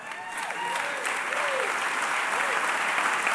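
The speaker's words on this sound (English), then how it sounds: "When the crowd starts to holler in support of what she's saying" A large crowd at a Country Music Hall of Fame induction ceremony applauds and cheers in a sustained, dense wash of clapping. Faint voices rise under it.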